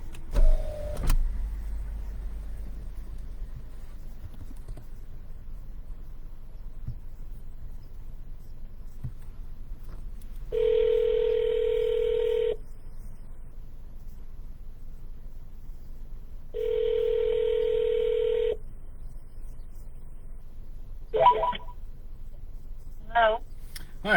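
An office phone dialer places an outbound call: after a brief click come two long electronic ringback tones a few seconds apart, then a couple of short beeps, in an otherwise quiet room.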